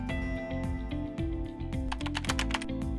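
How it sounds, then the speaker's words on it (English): Typing on a computer keyboard, a quick run of soft clicking keystrokes heard close, set over a steady low electrical hum with faint tonal whine underneath. "type the reason in the box."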